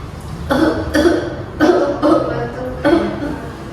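Four loud, close coughs in a steady rhythm, each a short harsh burst, spaced about half a second apart.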